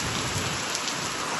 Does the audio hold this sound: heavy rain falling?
yes